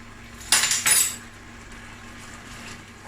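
A utensil clinks and scrapes against a pan while milk with cane sugar and vanilla essence is stirred, two short bright bursts of metallic contact, then a faint quiet hum.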